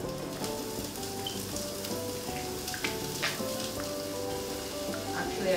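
Pimentos and onions sizzle steadily in a pot for chicken pelau, a dense continuous frying hiss with soft crackles and faint stirring, close and moderately loud with no talk.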